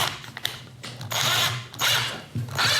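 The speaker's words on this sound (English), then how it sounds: "put it on the bandsaw and cut it round" A bandsaw cuts a wooden bowl blank round along a template, its blade rasping in rough bursts of loud grinding noise with short pauses between passes, no voices heard.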